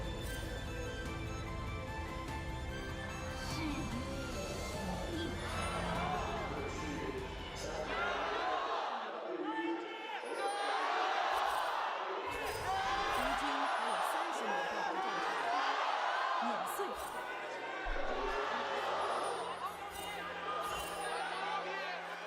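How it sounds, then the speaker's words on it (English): Arena crowd at an LPL 2025 esports playoff match between WBG and IG, chanting and cheering in rising waves behind continuous commentator talk. "Messy crowd chants again."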